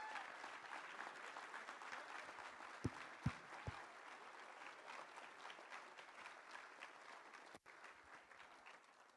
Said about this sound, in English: please join me in a round of applause to thank them for their service and their sacrifice to this country